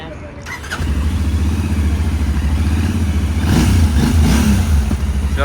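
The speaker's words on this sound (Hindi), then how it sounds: "इसका साउंड सुनो. Exhaust continental GT 650." Royal Enfield Continental GT 650 motorcycle starts up with a brief cranking clatter and settles into a loud, throbbing exhaust idle with a rise in revs near the end, while people talk over it.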